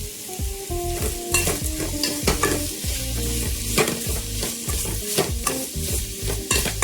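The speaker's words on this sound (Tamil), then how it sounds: "ஆனியன் வந்து இந்த அளவுக்கு வதங்கினா போதும்." Onions sautéing with salt in a pan for green peas kurma, a steady close sizzle punctuated by repeated scraping and clanking stirs of a spoon against the pan, with no voices.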